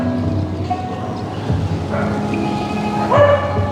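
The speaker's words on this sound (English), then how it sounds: "I hear the dogs bark, I want to bark with the dog" Dogs barking outdoors, a few short barks and yips rising over a low steady background rumble, at moderate distance with no talk.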